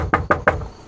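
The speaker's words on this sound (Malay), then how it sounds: "dia ketuk pintu dengan kuat" Three loud, evenly spaced knocks on a door ring out close by, each a sharp thud with a short resonant decay, in a horror story setting.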